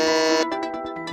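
A single long buzzer tone in an online Family Feud-style game, loud and steady for under half a second, then followed by a run of short repeated electronic pulses.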